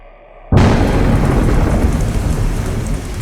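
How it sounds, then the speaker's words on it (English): Outside a hotel, a sudden loud crack of thunder bursts in, then torrential rain pours down in a dense, steady roar that continues without let-up. "A loud crack of thunder shook the whole hotel as the skies above began a torrential downpour that would last all night."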